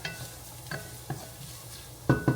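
Penne pasta being stirred in a pan, with soft scraping strokes and a light sizzle, ending in two louder, close clattering stirs.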